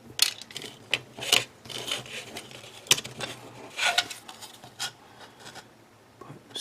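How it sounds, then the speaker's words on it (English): Short scratchy rubbing strokes, irregular and close, from a small sanding stick smoothing a small part of a 1/72 scale plastic model kit by hand, with quiet pauses between bursts. "thank you, Robot Kai, for sending me these little parts, these little sanding stick parts"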